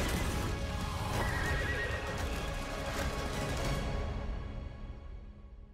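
The Dreadmare demon horse in the video game ARK gives a loud, sustained neigh over hoofbeats and dense game noise, and the whole mix fades out toward the end.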